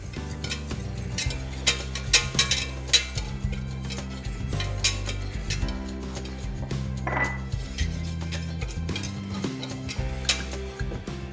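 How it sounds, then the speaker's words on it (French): Steady scraping and clattering of a utensil against a pot as flour is stirred into melted butter for a roux, continuous rhythmic stirring with metallic knocks, close and fairly loud. "On va y ajouter la farine, hein, le principe du roux. On va mélanger tout ça."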